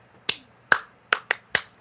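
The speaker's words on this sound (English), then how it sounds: "I think you're going to remember this clap." A single person's sharp hand claps, five crisp isolated strikes spaced irregularly, close and clear with no talk.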